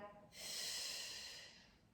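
A long, breathy exhale during a pregnancy workout, rising after a short pause and fading slowly over about a second and a half, close and fairly loud.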